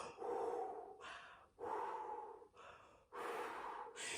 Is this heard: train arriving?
no